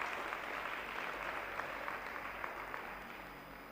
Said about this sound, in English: please give yourselves a resounding round of applause.